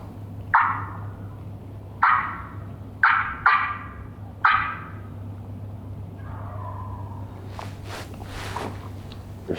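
Several distant wild turkey gobbles ring out one after another at irregular intervals over a low steady hum, followed by fainter rustling.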